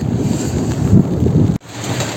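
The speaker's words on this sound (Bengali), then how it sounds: "হঠাৎ করেই এই যে জরু বাতাসের মতো অবস্থা শুরু হয়েছে" Strong gusty wind roars outdoors in a village before a rainstorm, a loud, steady rushing broken by one brief dropout.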